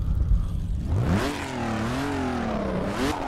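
A Jaguar V12 engine in the Assetto Corsa racing game revs up sharply, then holds a high, wavering whine with pitch rising and falling, loud and close with no talk.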